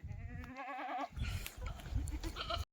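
Kathiawadi dairy goats bleat in a quick wavering series close by, followed by a shuffling, rustling jumble of movement.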